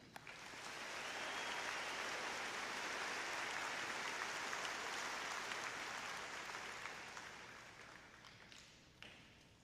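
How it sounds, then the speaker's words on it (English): Audience applause following a varsity choir piece at a high school graduation ceremony, a dense, distant wash of clapping that swells, holds steady, then fades with a few scattered claps at the end. "One more round of applause, please."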